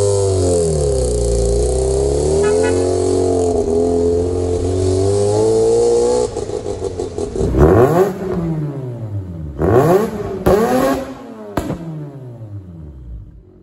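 A high-powered small car engine of about 1.3 liters drones loudly and steadily, then revs sharply in several separate bursts that rise and fall before fading out.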